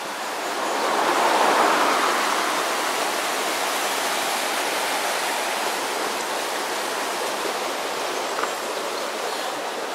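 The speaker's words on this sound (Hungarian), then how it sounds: "És így folyik mellettünk ez a patak." A mountain stream flows beside a road on a pass in Bosnia or Croatia, a steady close rushing wash of water that stays even and continuous, with no voices over it.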